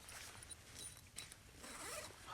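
A zipper on a tactical insulated jacket is pulled in quick, scratchy rasps, close and quiet, with a couple of short runs over a couple of seconds.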